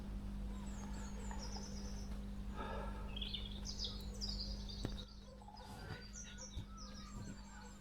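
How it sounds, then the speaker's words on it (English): Scattered birdsong and chirps ring out over a steady low hum, with harsher seagull calls mixed in, moderately distant, on a still morning near a river. "Lots of bird song, noisy seagulls."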